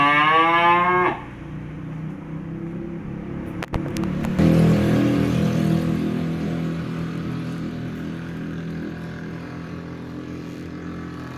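A Limousin cow lets out a long, loud moo up close, followed by a sharp clatter and a steady outdoor rumble.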